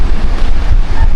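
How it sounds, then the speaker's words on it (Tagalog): Rough sea surf churned up during a typhoon, a loud, continuous wash of waves mixed with heavy wind buffeting the microphone, no voices. "Tsaka maalon pa rin po yung dagat."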